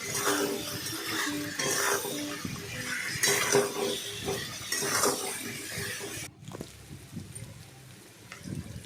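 A spoon stirs katla fish head curry with turmeric in a cooking pot, producing close, continuous scraping and soft metallic clinks in an irregular rhythm that quiets somewhat toward the end.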